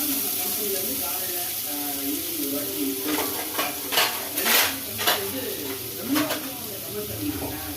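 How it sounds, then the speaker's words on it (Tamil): Two finely chopped onions sizzle in oil in a kadai for a street-style kalan snack, with a steady fry hiss and several spoon stirs and scrapes against the pan. "2 வெங்காயத்தை போட்டுக்கலாம்."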